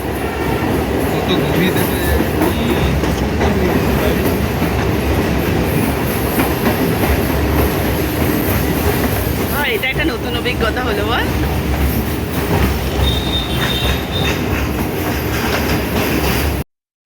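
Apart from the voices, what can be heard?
train running along the Ganges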